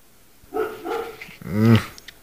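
A golden retriever barks indoors: a short pair of yaps followed by a louder, drawn-out bark-whine, close to the listener and alone.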